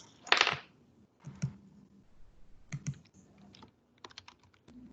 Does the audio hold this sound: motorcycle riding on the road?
no